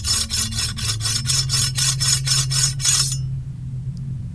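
Blade being sharpened on a grindstone in the video game Anna: about eleven steady rhythmic rasping strokes, loud and close, over a low hum, then stopping abruptly.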